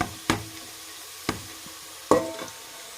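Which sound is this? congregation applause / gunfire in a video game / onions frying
onions frying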